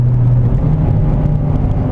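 A modified Mazdaspeed3 engine under way, a steady low droning rumble with a faint tonal whine, loud and close inside the cabin, holding evenly with no talk over it.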